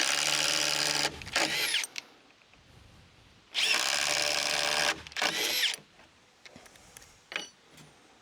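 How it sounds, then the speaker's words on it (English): A power drill spins a paddle bit into wood to counterbore holes, in two loud sustained bursts separated by a quieter pause, with small clicks and handling noises afterward. "I'm going to counter bore them in a little bit with this paddle bit so they actually reach all the way through"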